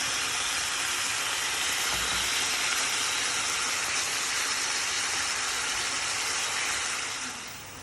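Steady, dense hissing and crackling of steak sizzling in a hot pan, close and continuous, easing off slightly at the end.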